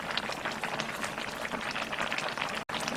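Spicy Korean chicken soup (dakgaejang) with green onion and pepper boils steadily in a pot, a dense continuous bubbling and popping throughout, close and fairly loud, with one brief dropout near the end.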